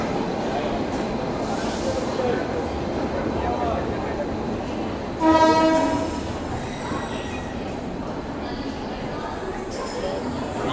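The Farakka Express to Sealdah, hauled by a WAP7 electric locomotive, rumbles steadily along the rails while a loud horn blast sounds near the middle, with a person talking over the running train.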